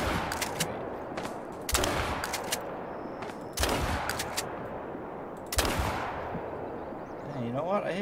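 Shotgun blasts while hunting quail in Mississippi, four sharp, loud reports spaced about two seconds apart, each ringing out over quiet open ground.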